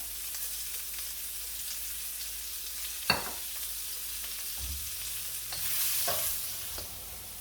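Vegetables cooking in oil in a pan for sausage fried rice, a low steady sizzle broken by a couple of sharp knocks and stirring scrapes, with a brief louder hiss near the end.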